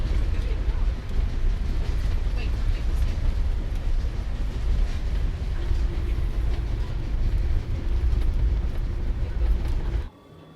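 A train rumbles steadily along the rails near Kiruna, Sweden, with a low, continuous roar and faint rhythmic clatter, cutting off abruptly near the end.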